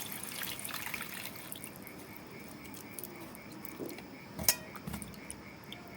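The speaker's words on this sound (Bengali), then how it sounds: "ওই তেঁতুলটার মধ্যে আমি জল দিয়ে ভিজিয়ে দিচ্ছি" Water is poured over sour black tamarind to soak it, a faint, soft trickle and patter with a light clink of a vessel partway through.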